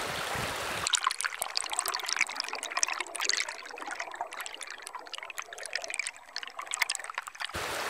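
River water flows around a meter stick held upright in the current, a steady close trickling and gurgling that stops abruptly at both ends.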